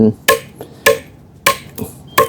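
A small BG Knives N695 machete chopping wood: four sharp, loud, close strikes, spaced roughly half a second apart, each followed by a faint rebound tap.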